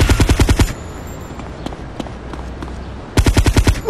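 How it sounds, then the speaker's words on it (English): Rapid automatic gunfire in the video game GTA Vice City Stories rips in two loud close bursts, at the start and at the end, with scattered fainter shots in between. "Yep, I'm gonna shoot you."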